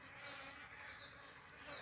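Honey bees buzz around a hive during winter feeding, a soft, continuous insect hum heard close for a brief moment.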